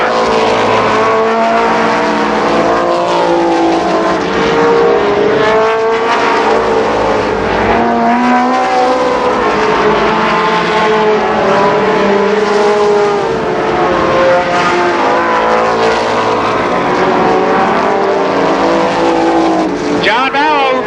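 Race cars roar continuously at Columbus Motor Speedway, an oval track, engines loud and close with layered revving and passing tones throughout, under a steady public-address announcer's voice.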